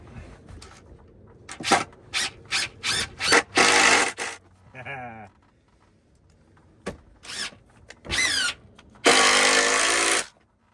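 A power driver drives screws into wood to toenail a big 8-inch ridge pole, heard as a series of short whirring bursts followed by two longer runs, close and loud, separated by quiet gaps.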